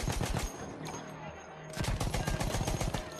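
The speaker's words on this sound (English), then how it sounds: "we're shooting people, but it's all fake" Rapid gunfire from the video game Battlefield 1 in a World War I campaign battle, loud sustained bursts of automatic fire with a brief lull midway before the shooting resumes.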